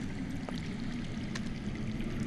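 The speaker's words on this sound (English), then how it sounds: "I hear water. From underground?" Underground flowing water in a Game of Thrones video game, a steady low rushing wash with a faint trickling texture, continuous and moderately distant throughout.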